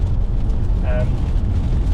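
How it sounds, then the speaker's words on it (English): A deep, rumbling car engine with a few sharp exhaust pops and bangs crackling through from another car, under some indistinct voices. "I can't take credit for that pop and bang, as there was another car in here doing that"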